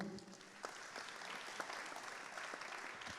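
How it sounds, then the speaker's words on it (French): Audience applause at an awards ceremony, a dense continuous wash of clapping from a crowd, quite distant and even, with a few sharper individual claps standing out. "Voilà, on peut vous applaudir."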